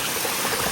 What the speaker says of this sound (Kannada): ಕಲ್ಸಂದಿಂದ ಎಲ್ಲ ಬರ್ತಾ ಇದೆ ನೀರು.